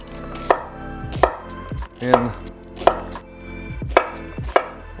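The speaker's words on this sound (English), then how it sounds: "we're gonna chop that right in half, save the other half" An onion is chopped with a knife on a cutting board: six sharp, evenly spaced thuds about once every seventh of a second apart, close and crisp, with no talking over them.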